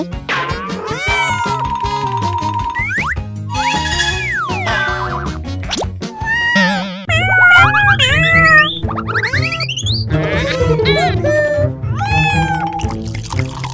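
Repeated cartoonish kitten meows from a pet-care video game, over bouncy game music, bright chirpy mews rising and falling throughout with playful sound effects.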